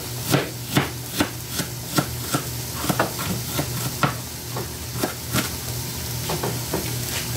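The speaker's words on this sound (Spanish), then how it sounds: "Aquí voy a cortar la cebolla." A knife chops onion on a board in a steady rhythm of close, crisp thuds, roughly two per second, over a faint background sizzle of olive oil heating in a frying pan.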